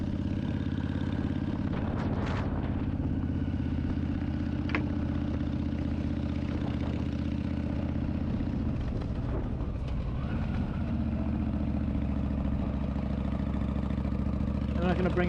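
A Yamaha V Star 1300 motorcycle rumbles along a ride near Castine, Maine, its engine droning steadily and loudly with wind noise throughout, and a rider talks over the engine.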